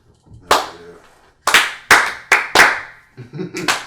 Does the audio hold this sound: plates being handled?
no